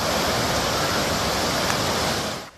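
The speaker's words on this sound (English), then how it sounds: "As the Laidley Creek broke its banks, streets became rapids." Laidley Creek floodwater in the Lockyer Valley rushes through town streets after breaking its banks, a loud, continuous broadband roar of torrent that drops away abruptly at the end.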